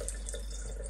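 Water drips from a leaking ceiling indoors, faint, steady drops over a low background hum, with no talking.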